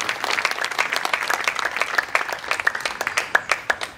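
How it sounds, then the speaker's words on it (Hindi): An audience at a festival gathering claps together, the rapid applause growing into sharper, more distinct individual claps as it goes on. "पर वापस आइए और तालियां बजाइए।"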